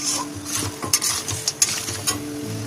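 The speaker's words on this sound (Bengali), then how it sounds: "ভেজে রাখা চিকেনটা দিয়ে ভালো করে মশলার সাথে কষিয়ে নেবো।" Pre-fried chicken pieces being stir-fried with spice paste for a yogurt chicken curry: a spatula scrapes and knocks against the pan in repeated strokes over a constant close sizzle.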